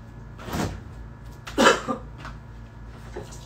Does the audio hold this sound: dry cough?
yes